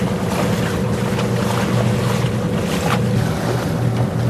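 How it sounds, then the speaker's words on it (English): A sailboat motors under engine at 1100 RPM on a calm morning in the eastern Bahamas, a steady low engine drone mixed with wind and water rushing past, constant and fairly loud with no talk. "And just motoring right now, 1100 RPM."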